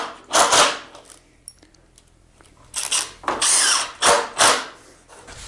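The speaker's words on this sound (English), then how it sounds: "you cannot beat a snappy bit for pilot holes on countersunk head screws" A power drill fitted with a snappy bit bores pilot holes in wood for countersunk screws, giving several short bursts of close, loud grinding with quiet pauses between them.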